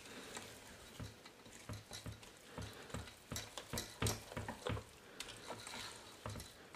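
Coconut pastry cream mixture being stirred in a bowl, a series of soft wet scraping and slapping strokes in an irregular rhythm, close and fairly quiet, with no talking.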